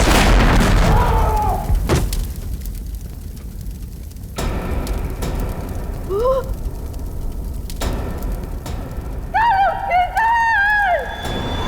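A bomb explodes in a Hindi TV crime drama: a loud, brief blast opens the scene, followed by quieter ambience with people speaking and dramatic tonal music stabs.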